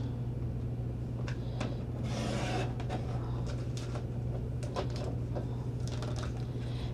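Card stock being cut with a paper trimmer for simple card making with a Doodlebug value bundle, giving soft brief sliding and clicking cuts, quiet and close, over a steady low hum.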